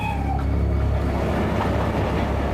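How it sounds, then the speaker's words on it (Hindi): A train rolls past a railway crossing, a steady loud rumble with clattering wheels and a brief high squeal near the start, continuous throughout with no talk. "हम लोग अभी रेलवे क्रॉसिंग तक पहुंचे"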